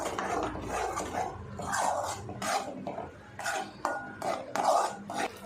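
A spoon stirs tomato paste into a masala in a cooking pan, making soft, rhythmic scraping and clinking strokes that are fairly quiet and close.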